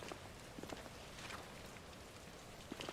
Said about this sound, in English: Just go for a walk in the rain.